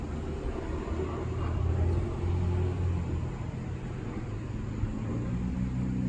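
A 1961 Chevrolet Corvette 4-speed with a mildly lopey cam and new exhaust idles in a steady, low rumble close by, its level holding even throughout with no voices over it.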